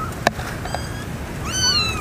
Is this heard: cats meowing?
yes